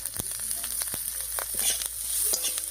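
Green chillies, chopped onion, coriander and cumin sizzle in oil in a pan, a steady close hiss broken by sharp crackles and a few stirring clicks, with no talking.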